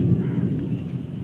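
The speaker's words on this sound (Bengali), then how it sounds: "এবং আপনারা মেঘের ডাকুনিও শুনতে পাচ্ছেন" Low, rolling thunder rumbling steadily through a brief moment of a heavy rainstorm in Birbhum district, a deep continuous growl with no distinct crack.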